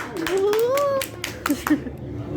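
A small crowd at the Icons of Darkness exhibit in Hollywood claps and cheers: scattered, uneven handclaps mixed with whoops and excited voices, close and fairly loud, tapering off toward the end.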